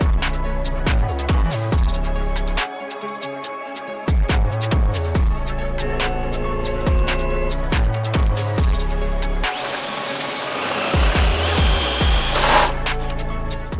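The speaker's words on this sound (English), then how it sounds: "Are we drilling that out?" A power drill drills out a factory cooler part on a BMW G82 M4 in a workshop, loud whirring bursts that start and stop repeatedly with grinding and metallic rattles between them.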